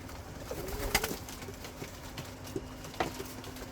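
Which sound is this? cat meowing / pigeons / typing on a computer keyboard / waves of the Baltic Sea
pigeons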